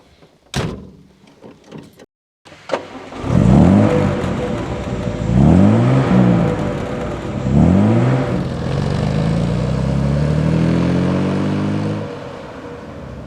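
A 150-horsepower Austin Healey 3000 Mark III sports car, heard after a door slam, revs up through several rising gear pulls while driving, the engine loud and close before settling into a steady drone.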